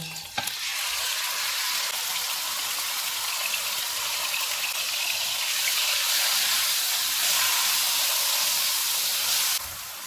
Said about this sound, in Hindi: ऑयल गर्म हो गया, इसमें मैरिनेटेड चिकन डालेंगे